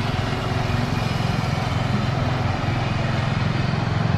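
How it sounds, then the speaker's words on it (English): A riding lawn mower engine runs steadily as a lawn is mowed on a summer day, a continuous close, loud low drone with no clear breaks. "mowing the lawn with his very own riding lawnmower"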